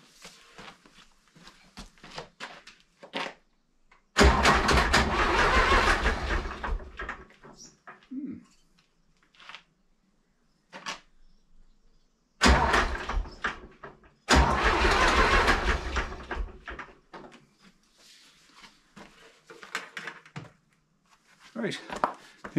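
Zetor 4911 tractor engine, sitting for over ten years, cranks in two long laboring bursts several seconds each, separated by pauses with rattles and clicks, with faint birds and some talk around it.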